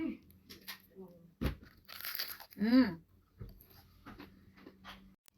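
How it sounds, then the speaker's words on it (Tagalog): Crisp crunching bites of fried chicken up close, mixed with chewing noises and a brief murmured vocal sound. "Ito na yung malutong naming fried chicken na naman."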